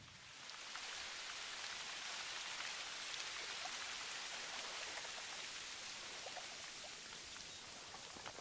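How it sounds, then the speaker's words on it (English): Rain in the hunting video game theHunter falls as a steady, even hiss of dense drops, moderately quiet and continuous throughout with no other sounds. "Oh my goodness, the rain."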